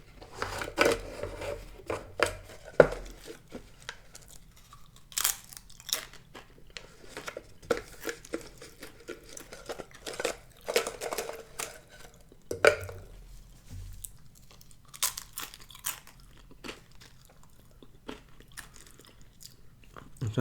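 Pringles BBQ flavored potato crisps being bitten and chewed up close for ASMR, giving repeated crisp crunches at an irregular pace with some can or packaging handling, and no talking.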